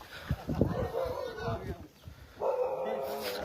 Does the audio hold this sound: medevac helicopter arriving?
no